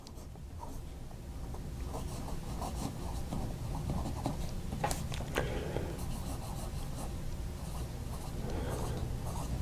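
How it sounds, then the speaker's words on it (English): A Pelikan M800 fountain pen with an italic broad nib writes on paper. Soft, steady scratching and rubbing strokes sound close up for about ten seconds, with small irregular pauses and light taps between strokes. "Let's take a quick look at how this italic broad nib lays down ink."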